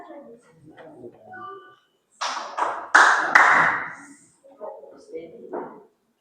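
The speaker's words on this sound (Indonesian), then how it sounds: "Tepuk tangan dulu dong." A group of people clap their hands in a couple of short bursts in the middle, with talking before and after.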